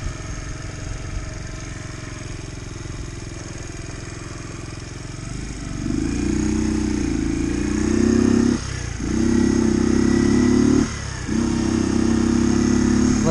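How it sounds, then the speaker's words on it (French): A Mash 50cc four-stroke motorcycle engine, with about 10,000 km on it, idles with a low, uneven putter. About halfway through it jumps into louder, buzzing revs, with two short dips as the throttle briefly eases off. "C'est un moteur qui vibre, un moteur qui fait du bruit."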